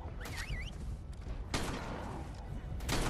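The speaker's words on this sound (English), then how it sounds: "Who's shooting? Is that you?" Gunfire in the survival game Ark, a few sharp distant shots in a sparse sequence over low rumbling background noise, fairly quiet.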